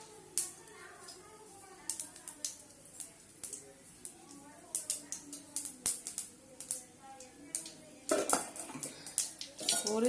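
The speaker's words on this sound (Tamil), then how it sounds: "கடுகு வந்து போட்டிருக்கோம். போட்ட உடனே பாருங்கள் நல்லா பொரியுது. அப்படியே படப்படப்படன்னு பொரியுது." Mustard seeds popping in hot oil while a Tamil fish curry is being prepared, giving rapid, irregular sharp crackles and pops that cluster densely near the end, close and fairly loud.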